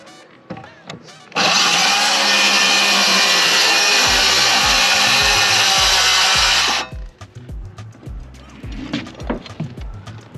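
Power saw ripping through building material on a shop build, a loud, steady, high-pitched whine lasting about five seconds close up, with knocks and handling noise before and after.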